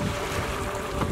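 Steady wind rushing over choppy waves on Lake Mansarovar, a broad continuous wash of noise with buffeting against the microphone, loud and unbroken throughout, no voices.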